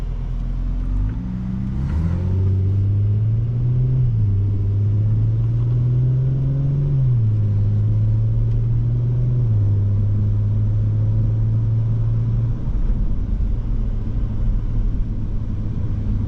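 A 2020 Audi S4 3.0T Premium Plus accelerates in reverse, its engine drone rising in pitch, dropping back, then holding a steady, loud rumble close by for many seconds with no talk.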